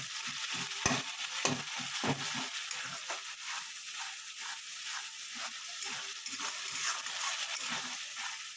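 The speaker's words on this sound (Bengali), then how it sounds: "এইভাবে ভালো করে কষে নেবেন যাতে আদা রসুনের গন্ধটা না থাকে" Ginger-garlic paste and spices frying in oil in a pan, a steady sizzle broken by repeated scraping stir strokes throughout, close and fairly loud, with no voices.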